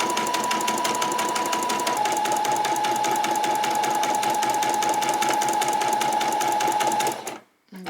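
A sewing machine runs a long gathering stitch through skirt fabric with a loud, steady, rapid mechanical chatter for about seven seconds, then cuts off abruptly. It is close and has no talk over it.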